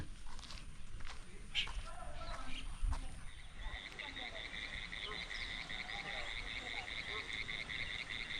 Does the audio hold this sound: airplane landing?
no